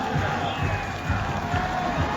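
Stadium crowd at an FC Anyang football match applauding the players, a steady dense roar of clapping and cheering with scattered shouts throughout.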